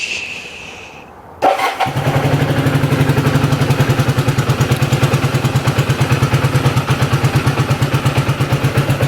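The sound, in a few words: Kawasaki KZ400 motorcycle engine idling low on fuel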